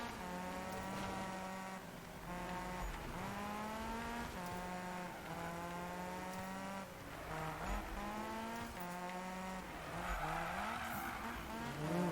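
Drifting car in Need for Speed, a tofu delivery car, its engine revving in wavering tones while tires squeal in long sustained screeches through the corners, loud and continuous.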